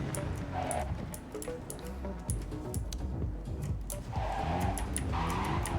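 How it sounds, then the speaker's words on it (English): A car drives in the video game Cyberpunk 2077 with a steady, rumbling engine drone and occasional scrapes and skids, loud and close throughout. "I really need to learn how to fucking drive this mad car"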